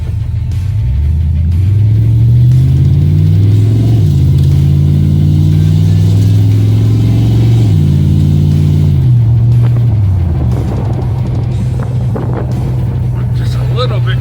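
A 1972 GMC C10 truck with a 700R4 transmission accelerates hard, engine revs rising and dropping as it shifts through several gears, loud and close inside the cab, with wind noise and a voice speaking near the end.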